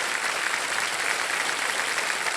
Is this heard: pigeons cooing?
no